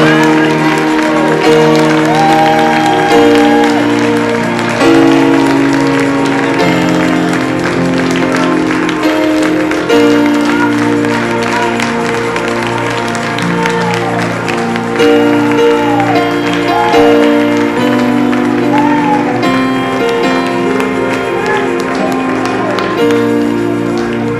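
A congregation applauding God during a French-language church service, with sustained clapping and scattered shouts mixed into loud music with held tones and sung lines, all steady and loud throughout.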